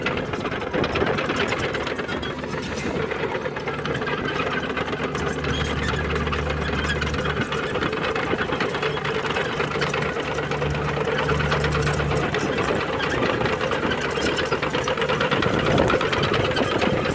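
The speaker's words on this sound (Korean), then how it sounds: "엔진 소리 참 좋습니다" A mini excavator's engine runs steadily as it grades ground with its dozer blade, a close, continuous mechanical chugging with rhythmic knocking and shifting low hum as the load changes, with no one speaking.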